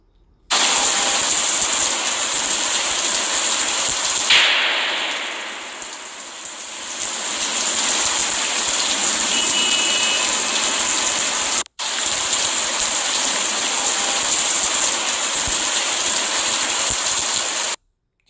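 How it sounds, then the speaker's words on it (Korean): Synthetic rain made in the PowerDirector mobile editor plays as a dense, steady wash of hiss. It dips briefly partway through and cuts out for a moment before resuming, with no voices. "이렇게 비오는 효과를 구현했는데"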